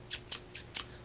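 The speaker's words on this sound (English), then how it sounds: "First of all, I got Tim Holtz scissors" Four crisp snips of 9.5-inch Tim Holtz scissors in quick, even succession, close and clear against quiet background.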